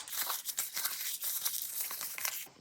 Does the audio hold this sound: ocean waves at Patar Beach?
no